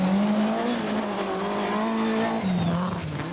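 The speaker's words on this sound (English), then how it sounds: "the Audi's exhaust note booming off the hillsides" Audi rally car on dusty gravel tracks at the 1988 Cyprus Rally, its engine and exhaust note droning steadily and loudly throughout, with rising and falling pitch as it accelerates and a brief tyre scrabble near the end.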